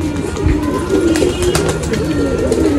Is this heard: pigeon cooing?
yes